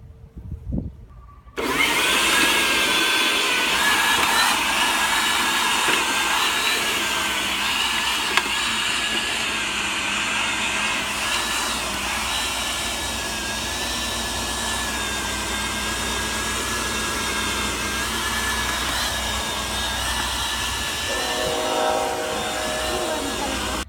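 An Earthwise TC70001 11-inch 8.5-amp electric corded tiller cultivator starts up in a garden and then runs with a loud, steady motor whine and churning drone that barely changes for the rest of the stretch.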